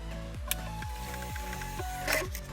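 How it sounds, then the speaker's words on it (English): A flight strip printer at an approach control position runs with a repeated mechanical whirring cycle, each stroke sweeping down in pitch, close and steady, with small clicks along the way. "Or I hear the printer and so I collect the strip."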